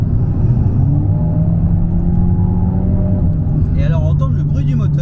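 An Alpine A110 Légende GT engine drones steadily from inside the car while driving, a low continuous hum with intake noise, and a voice talks faintly near the end.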